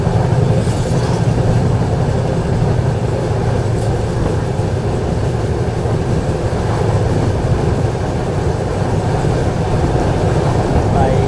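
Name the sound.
train running, locomotive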